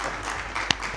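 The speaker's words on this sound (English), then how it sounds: "And the final biggest round of applause to the program director." Audience applause closing a lecture session, a steady wash of clapping from a crowd that continues evenly throughout with one brief sharper sound partway through.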